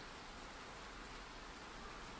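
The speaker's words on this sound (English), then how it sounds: "the kitchen stayed quiet, except for the sound of gentle rain against the glass." Gentle rain patters against window glass with a soft, steady hiss, continuous and faint with no voices.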